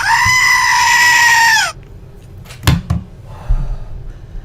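A goat sound effect: one long, loud, wavering bleat, followed by a few faint knocks and rustles.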